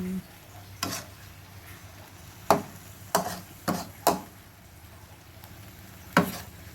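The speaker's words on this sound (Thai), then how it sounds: "ผัดลงไปเรื่อย ๆค่ะ แล้วก็ผัดต่อ คน" Ginger and pork stir-fried in a pan for old-style Thai ginger stir-fry, with a low sizzle under several sharp spatula scrapes and knocks against the pan.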